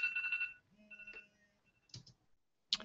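A phone's ringtone plays a short tonal pattern, followed by a few quieter electronic blips and a sharp beep, indoors and fairly soft.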